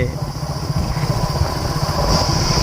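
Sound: motorcycle riding through a sal forest

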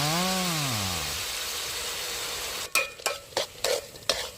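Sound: pork frying in pan with fish sauce poured

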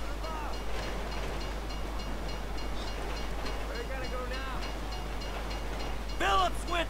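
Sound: train in the video game Grand Theft Auto V

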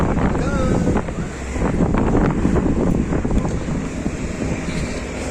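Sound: wind

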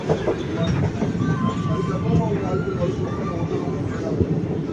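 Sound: train stopping at Udumalaipettai junction

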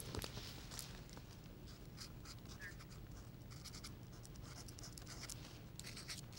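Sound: writing the word friendship on a handmade card

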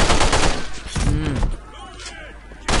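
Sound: gunfire in the video game The Matrix: Path of Neo

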